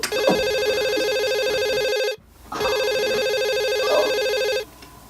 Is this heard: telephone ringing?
yes